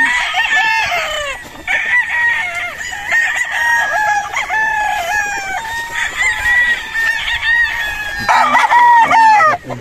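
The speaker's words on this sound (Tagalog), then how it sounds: "So ito mga idol, isa sa mga broadcock ni Sir Martin Esculin" Several gamecock broodcocks of Boston Roundhead bloodline crow repeatedly at a breeding farm, loud and close, long rising-and-falling calls overlapping one another with some clucking between.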